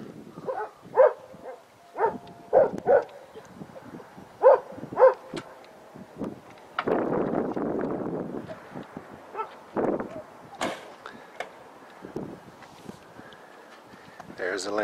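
Dogs shut inside a car about 50 yards away bark at a campground, with sharp yaps landing in bursts, sometimes two or three close together and then pausing, moderately distant, while people talk nearby.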